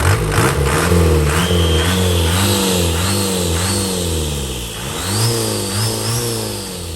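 A Dragon TFR pickup truck engine with an HX40 turbo revs repeatedly, pitch rising and falling in bursts with a whistling turbo spool above, loud and near.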